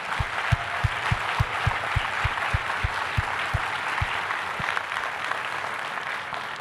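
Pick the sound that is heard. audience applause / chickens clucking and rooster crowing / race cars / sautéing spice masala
audience applause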